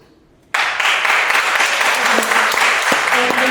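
Audience applause erupts suddenly at a candidate forum debate after near silence, a loud, dense wash of clapping from a crowd that holds steady, with faint voices mixed in underneath.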